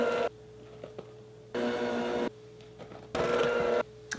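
An electric mixer blends powdered sugar into vegan cream cheese frosting in three loud, whirring bursts, each lasting under a second, separated by quiet pauses.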